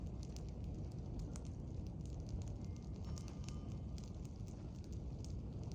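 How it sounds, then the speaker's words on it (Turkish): Outdoor campfire lit by a Yörük shepherd on the steppe during a lunch break, a faint, steady crackle with sparse small pops over a low wind-like rumble. "İnşallah ateş yaktık."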